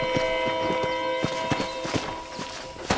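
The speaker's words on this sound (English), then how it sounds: "let's see if you can still ride a horse" Rhythmic clip-clop of horse hooves in the video game Red Dead Redemption at a steady trotting pace, close and clear, over a soft tonal background with no talking.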